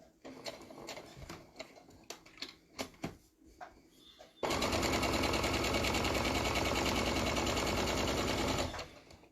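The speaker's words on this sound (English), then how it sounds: "I will show you how I sew my jelly roll strips together" After a stretch of handling clicks and taps, a sewing machine runs loudly and continuously for about four seconds, stitching jelly roll quilt strips together with a fast, even hum close by.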